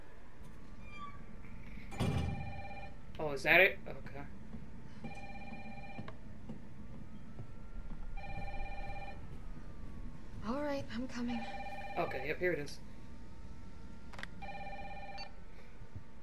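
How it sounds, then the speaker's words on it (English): A telephone in Resident Evil 3 Remastered rings repeatedly in short electronic bursts, spaced evenly, with a person speaking briefly between rings and a cat-like sound early on. "And my phone is ringing."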